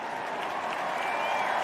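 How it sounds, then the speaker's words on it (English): A packed crowd at a US Open tennis match bursts into sustained applause and cheering after a double fault brings up match point, a broad steady roar of clapping with no pauses. "The crowd is exploding"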